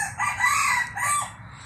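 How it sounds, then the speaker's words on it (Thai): A young Thai decoy rooster with small white ear lobes crows up close, giving a loud, drawn-out call that falls into a short second phrase. "ครับเสียงขันนะครับ"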